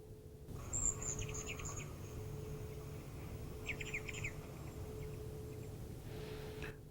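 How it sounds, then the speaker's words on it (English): Short, high chirping bird calls played from an iPad app come in two brief bursts over a steady low hum and faint insect-like buzz, without talking. "listen to the way these birds sound, and they actually have different calls for each one of the birds"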